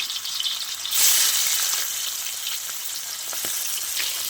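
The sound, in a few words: shrimp frying in oil in a wok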